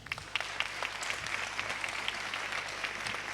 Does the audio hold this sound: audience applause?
yes